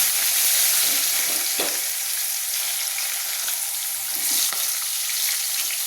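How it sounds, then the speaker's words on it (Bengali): Chopped tomatoes hit hot oil with dried red chillies, whole cumin and a bay leaf in a home kitchen, giving a loud, steady sizzle with occasional crackles and stirring scrapes. "দিয়ে দিচ্ছি কেটে রাখা টমেটো"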